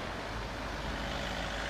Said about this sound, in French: La rue Mirabeau, avec sa circulation.